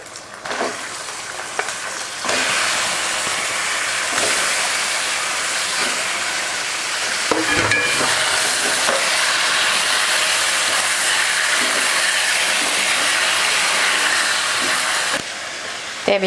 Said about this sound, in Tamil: இப்போ இதில் நம்ம சிக்கன் சேர்த்துக்கலாம்.